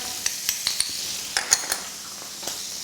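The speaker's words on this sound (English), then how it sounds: "Just give that a stir through." Preserved lemon, paprika, cumin and ginger stirred in a pot for a chicken tagine, giving a series of light scraping clinks of a utensil against the pot, with soft sizzling underneath.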